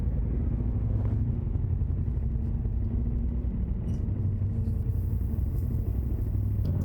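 Engine rumble aboard a ferry in southern Norway, a steady low, loud drone that continues without a break.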